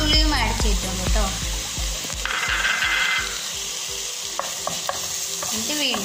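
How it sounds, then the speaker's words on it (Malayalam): Crushed chilli and garlic sauté in a hot pan, a steady close sizzle broken by repeated rhythmic scrapes and knocks of a spoon stirring, with brief faint speech. "ഇത് വീണ്ടും വഴറ്റുക"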